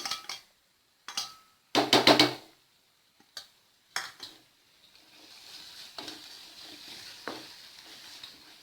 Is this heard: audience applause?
no